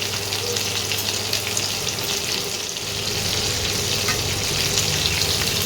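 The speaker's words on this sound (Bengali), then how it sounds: "এইভাবে মাছগুলোকে হালকা করে ভেজে নিতে হবে।" Prawns shallow-frying lightly in oil for a Bengali monomohini chingri dish, giving a steady, close, continuous sizzle with crackling bursts throughout and no talking.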